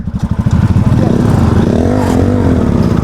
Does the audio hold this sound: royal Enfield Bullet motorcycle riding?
yes